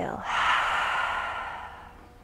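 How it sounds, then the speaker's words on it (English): A person exhales deeply through the mouth in one long, close breath that rises quickly and slowly fades over about two seconds, heard on its own. "exhale."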